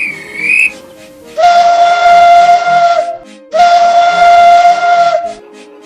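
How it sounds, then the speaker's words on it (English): Thomas the steam engine sounds two long, loud whistle blasts with a short gap between them, after a brief rising tone at the start. "Then, he heard a whistle. It was Thomas coming to the station."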